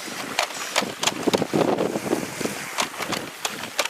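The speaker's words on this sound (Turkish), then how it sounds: "Evet bayağı bir rüzgar var burada." Steady wind roaring and buffeting against the microphone near a Scania truck and excavator, with scattered thumps and rustles over the constant rush.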